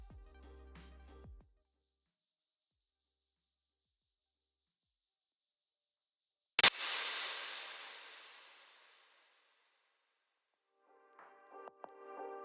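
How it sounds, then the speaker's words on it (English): A stream of EQ'd white noise fills the top end of a violin part in a hardstyle track, heard as a pulsing high hiss in repeated bursts that then holds as a steady sustained wash before cutting off. "So this is a stream of white noise played in succession."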